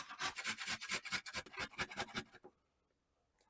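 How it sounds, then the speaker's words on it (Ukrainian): Repeated rough rasping strokes in a steady rhythm, a carrot grated on a coarse grater, close by, then stopping into near silence. "Моркву натерти на крупній терці."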